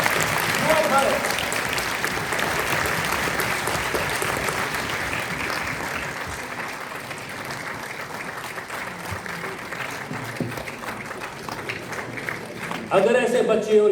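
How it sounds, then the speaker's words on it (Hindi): Sustained crowd applause at an award ceremony in India, a broad, continuous wash of clapping that runs throughout and swells again near the end, with voices mixed in. "एक बार फिर से तालियां,"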